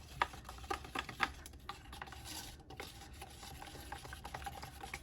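ResinCrete mix being stirred in a container for fridge magnets, a gritty scraping and rubbing with intermittent light clicks, close and fairly quiet.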